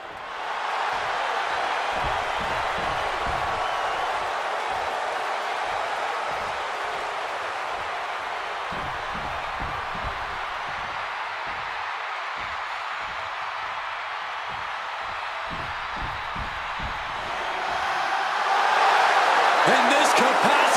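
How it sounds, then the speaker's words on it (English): Arena crowd noise from the video game WWE 2K26 during a CM Punk versus Seth Rollins match, a steady loud roar of a capacity crowd with a broadband swell in the final seconds, under a commentator's voice throughout. "And this capacity crowd just exploded."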